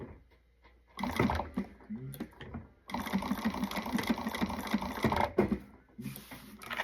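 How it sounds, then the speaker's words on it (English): Sewing machine stitching around the seam of a fabric wristlet, running in two steady, close bursts of rapid mechanical whirring separated by a short pause, with no speech. "I'm going to go ahead and stitch all the way around"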